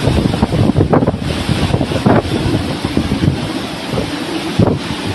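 Typhoon Matmo's fierce winds and strong surf on the Chinese coast form a loud, continuous roar of wind buffeting the microphone, with surging gusts throughout.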